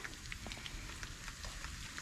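Rain falling steadily on a lake outside a window on a crisp autumn day, a soft continuous hiss of drops with scattered brighter pitter-patter taps, moderately distant and without voices.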